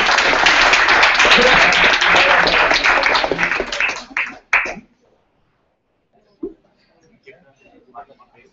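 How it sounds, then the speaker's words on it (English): Applause at a student election town hall, a dense burst of clapping from the room that runs about four seconds, thins out and stops abruptly, followed by near silence with a few faint scattered sounds. "round of applause"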